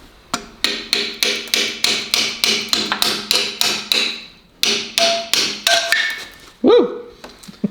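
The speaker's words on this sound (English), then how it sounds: "I'm gonna get my hammer and hammer." Repeated metal-on-metal hammer blows on crusty parts during a Ford 4.6L 4V engine teardown: about fifteen sharp, ringing strikes in a steady rhythm, close and loud, with a short pause before a final heavier clank.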